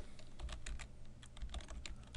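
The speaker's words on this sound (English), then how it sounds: "I'm going to type in here" Rapid keystrokes on a computer keyboard, a quick close run of light clicks and taps with brief pauses, quiet and without speech.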